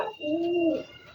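Pigeon or dove giving a single drawn-out coo, close and clear against a quiet background, from a bird newly placed with a mate in a keeper's loft.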